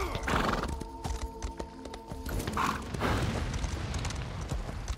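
A horse in Elder Scrolls Online whinnies loudly and near, with clattering hooves and creaking, mechanical clanks around it amid busy game noise.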